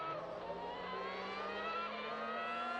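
A McLaren Formula One race car engine holds a steady high-pitched howl with a slowly rising tone, sounding moderately distant and continuous throughout.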